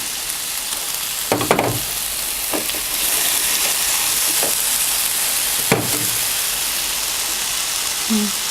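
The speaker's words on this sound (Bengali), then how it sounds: "এবার আমি এই পেঁয়াজ মরিচে এই ঢ্যাঁড়সটাকে দিয়ে দিচ্ছি।" Okra frying in a pan with onion and green chilli: a steady loud sizzle runs throughout, broken by a few sharp clatters of stirring and a brief louder burst partway, with no talking.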